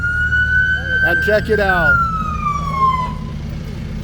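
An emergency vehicle siren wails at a small-town county days parade in Ordway, Colorado, rising and falling in a clear tone over low street rumble while a voice speaks briefly.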